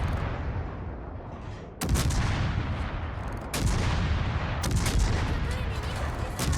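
Heavy in-game naval cannon fire from a Hull destroyer firing high-explosive shells: three loud booming blasts roughly a second or two apart, each rolling into a sustained rumble.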